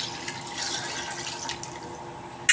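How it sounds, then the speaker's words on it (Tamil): Water running into a cooking pot for boiling rice for hotel-style biryani, a steady splashing pour with a small clatter at the end. "நான் 4 டம்ளர் ரைஸ் எடுத்துட்டேன், 8 டம்ளர் தண்ணி சேர்த்துருக்கேன்"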